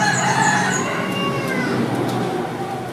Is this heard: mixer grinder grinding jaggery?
no